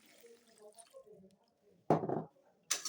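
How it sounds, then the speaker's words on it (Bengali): Water poured into a cooking pan of spiced masala in two short, splashing bursts, coming after a stretch of soft talk. "পরিমাণ মতন জল দিয়ে দেবো"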